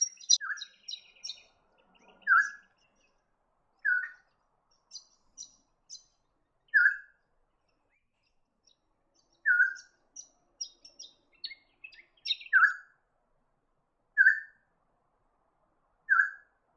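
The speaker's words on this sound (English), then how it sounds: "The helmeted friarbird is one of the largest honeyeaters in the area." A helmeted friarbird, a large honeyeater around Townsville, repeats a short, clear call roughly every two to three seconds, with scattered higher chirps between the calls against a quiet background.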